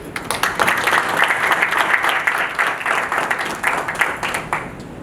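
A room of attendees at a national coaching school recognition ceremony applauds with sustained, dense clapping that holds steady and loud throughout.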